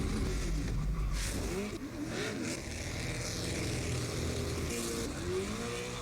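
The heavily built-up Hoonigan 1965 Ford Mustang revs hard at a Gymkhana drifting event, a loud continuous engine roar that rises and falls in pitch with throttle changes and tire noise, with no talking.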